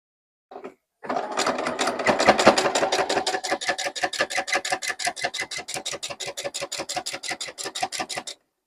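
A sewing machine runs steadily through a quilt block seam, its needle thumping in a fast, even rhythm that starts after a brief burst and continues close and loud to the end.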